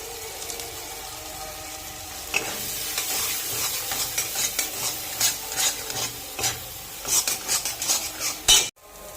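Dal puri lentil filling being stir-fried with cumin and Kashmiri chilli powder, a steady sizzle under repeated scraping and clinking of a spoon against the pan, with no talk.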